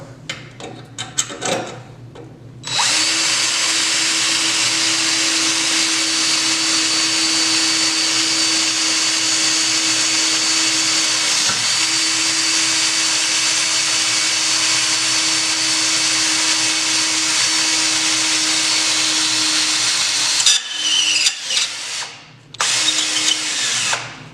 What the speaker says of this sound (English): we're going to start drilling